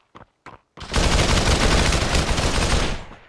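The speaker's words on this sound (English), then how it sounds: "someone's sniping me. That sounded like it was up on tower somewhere." Sustained burst of gunfire in the VR battle royale game Population One, a sniper shooting from up on a tower, loud and dense after two brief faint taps, continuing for over two seconds without speech.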